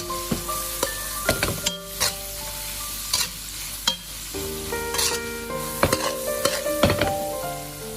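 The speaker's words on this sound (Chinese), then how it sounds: "接着把刚才切好的青红椒放入锅中，再快速的翻炒，将青红椒炒至断生。" Cured bacon and chopped green and red peppers are stir-fried in a wok: a loud, busy sizzle with repeated metallic spatula clanks and scrapes, close up and without talk.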